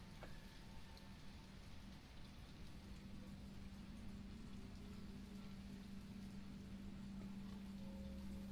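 Steady rain falling outside a window in the video game Resident Evil 3, a soft continuous hiss with a low hum underneath, quiet and unchanging throughout.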